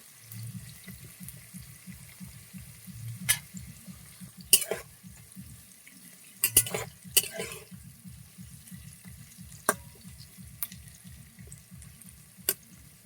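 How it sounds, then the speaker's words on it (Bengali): Onions sizzling in a pan as they fry until reddish, a steady crackling hiss with a low rhythmic pulsing underneath and occasional sharp clinks of a stirring utensil, close and without talk. "পেঁয়াজটা লাল লাল করে ভেজে নেব।"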